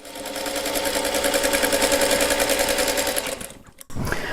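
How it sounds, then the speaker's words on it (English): A sewing machine runs steadily, stitching quilt pieces straight down a quarter-inch seam, its fast regular whirr close and loud before it stops briefly near the end and starts again. "I'm just going to simply sew them together straight down."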